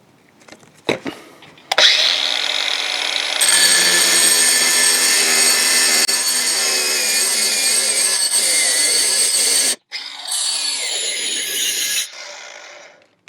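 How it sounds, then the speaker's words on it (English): Angle grinder cutting through an exhaust pipe, loud close whining grind that starts abruptly and holds steady for several seconds, then cuts out and restarts briefly before stopping. "if you compare that with the sort of cut you get from an angle grinder"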